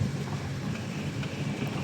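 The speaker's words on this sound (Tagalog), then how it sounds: "lakas ang ulan." Steady, dense rainfall roars without pause, a continuous broadband wash with a low rumble underneath, with no voices present.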